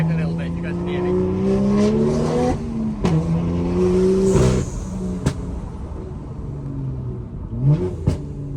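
A tuned BMW with a manual gearbox drives along, its engine holding a steady drone that rises and falls with revs and gear changes, with a few sharp knocks and a person talking over it.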